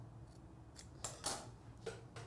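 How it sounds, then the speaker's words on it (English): Quiet snips of scissors cutting through ribbon for a dovetail end, four or five soft crisp cuts at an uneven pace over a faint low hum, with no talking. "These scissors are awful."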